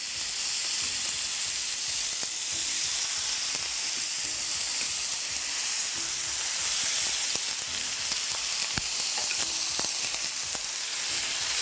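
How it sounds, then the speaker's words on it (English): Juicy pork burgers sizzling in a skillet, a loud, steady crackling fry that fills the clip, with scattered sharp pops and spatters, heard close and alone. "I'm gonna carefully place each pork burger right in the skillet."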